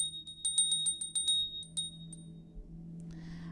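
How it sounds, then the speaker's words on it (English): A small ritual bell rung to clear the energies, a rapid run of bright metallic strikes that then settles into a few separate rings, close and fairly clear in a quiet room. "So I'm going to go ahead and ring a bell to help bring in and clear the energies."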